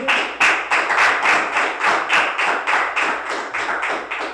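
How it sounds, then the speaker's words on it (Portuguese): A church congregation claps during an evening service in rhythmic unison, loud, even beats repeating steadily and close by, like a praise clap-along. "Você pode dar uma salva de palmas para o Senhor nessa noite, amém?"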